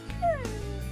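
Tamed wolves in the Minecraft video game, a short dog whimper and yip close up, a brief rising-then-falling whine over a low background hum.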